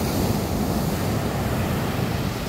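Steady wash of ocean waves on the Zambales shore, loud and close, with wind rumbling across the microphone and no voices.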